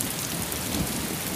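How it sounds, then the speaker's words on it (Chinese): Heavy pouring rain roars as a steady, dense wash of noise, close and loud, with no pauses and no voices. "你看这瓢泼大雨"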